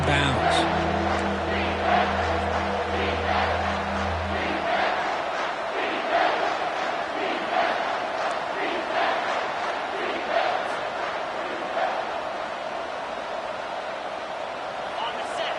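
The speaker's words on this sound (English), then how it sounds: "This crowd is trying to inspire this defense to make a big red zone stop." A football stadium crowd at an NCAA game roars loud and continuous from start to finish, a dense wall of massed voices swelling as the home fans urge the defense on, with a steady low drone underneath for the first few seconds.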